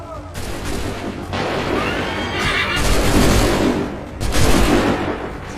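Cannon volleys boom in bursts during an Assassin's Creed III battle, heavy blasts mixed with horses whinnying and shouted commands over a loud, chaotic field.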